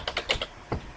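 A handful of quick, close keystrokes on a computer keyboard, about five crisp clicks in a short burst with a gap before a final tap.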